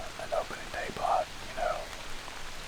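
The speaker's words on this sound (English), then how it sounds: "It's not raining hard now, it's just very light" Light rain falling in Tennessee woods during a deer hunt, a soft steady patter close by, with a few faint tonal calls rising over it.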